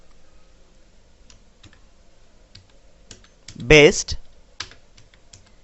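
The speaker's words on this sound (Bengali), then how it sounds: "তো সাপোজ এখানে আমি লিখে দিচ্ছি, একটি টেক্সট মেসেজ লিখে দিচ্ছি," Keys clicked on a computer keyboard while typing a text message, a sparse run of light taps followed by a louder burst of clatter, with a voice speaking briefly.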